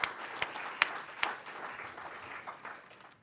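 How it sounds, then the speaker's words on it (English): An indoor audience applauds an award winner at a World Trade Week event in New York City: a steady wash of clapping with a few sharp, louder claps early on, fading slightly toward the end, no voices. "let's give Rangam a great round of applause"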